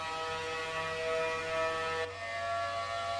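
A steady dual-tone siren wails continuously, two pitches sounding together in a sustained, slightly fluctuating drone with no voices.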